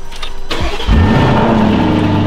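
A black SUV's engine cranks briefly, then catches and settles into a loud, steady, deep idle with a slight rev, close up and with no talking.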